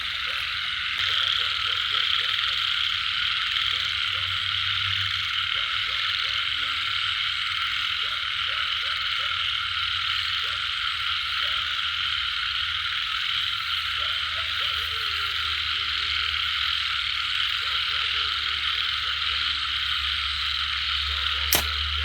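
Frogs croak in a forest beside rice fields, with dense rapid croaking calls repeating steadily under a loud continuous insect-like drone, close and persistent throughout.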